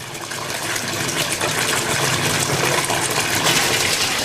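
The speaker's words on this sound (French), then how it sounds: "Alors le temps de remplissage de la baignoire a été divisé par 3." A bathtub fills fast from a high-flow tap, about 300 litres in two minutes. A loud, steady rushing gush of water continues throughout with no talking.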